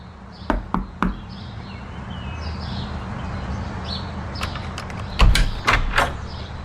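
Knocking on an apartment door: a quick set of three sharp raps, a pause, then a louder burst of several knocks close by, with no talking.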